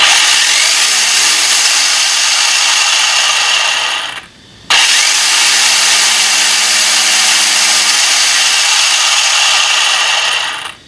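An RC car's electric motor screams at full throttle with a high, steady whine and hiss, cuts out briefly partway through, then winds straight back up to flat out until it stops.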